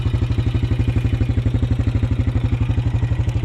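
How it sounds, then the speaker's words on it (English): A Honda TRX250TE Recon ATV engine, freshly rebuilt and still burning off oil, idles steadily close by with an even, rapid, loping putter and a light mechanical clatter, with no voices. "That idle's fine."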